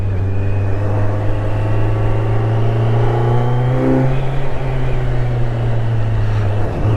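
A Kawasaki Z900 motorcycle engine hums steadily while riding, with a strong droning tone that rises as it revs up midway and then eases, over continuous loud road and wind noise, no one talking.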